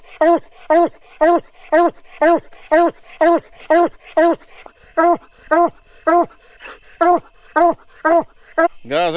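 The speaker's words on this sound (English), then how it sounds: "that's the way a coon dog's supposed to act" A coon dog bays at a treed raccoon in briar thicket, loud, near drawn-out bawls repeated about every half second in a steady rhythmic chop, with other hounds faintly in the background.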